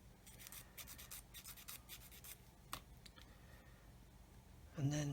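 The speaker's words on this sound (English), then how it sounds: "So once again, sand the end" The end of a plastic part from a 1/24 scale Airfix F6F-5 Hellcat model kit being sanded, with soft, quiet rubbing strokes in short bursts, then a louder scrape at the end.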